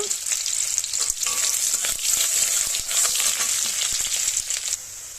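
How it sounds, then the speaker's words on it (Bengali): Onions fry in hot oil with dried chillies in a pan, a loud, continuous crackling sizzle with occasional stirring scrapes, heard alone without any talk. "আমি দিয়ে দিচ্ছি পেঁয়াজ। পেঁয়াজটা একটু লাল লাল করে নেব।"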